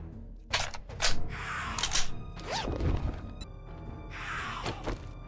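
A screamer zombie in the game 7 Days to Die bashing at a structure to break in, heavy repeated thuds and crashes at an uneven pace over low background game noise.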